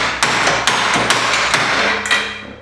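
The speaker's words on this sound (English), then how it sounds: "So we do that, hit it with the hammer." A hammer strikes the steering spindle of an EZGO TXT golf cart during a lift kit install, about eight sharp metallic blows in quick uneven succession, loud and close.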